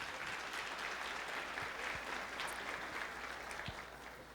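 An audience gives a big round of applause after a song at a spiritual talk event. Dense, continuous clapping holds steady from a distance for several seconds, easing slightly at the close.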